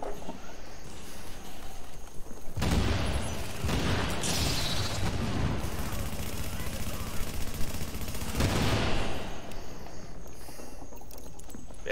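Gunfire and explosive booms from the video game The Division erupt in heavy bursts, loud clusters of rapid shots separated by quieter stretches, with players talking over the action.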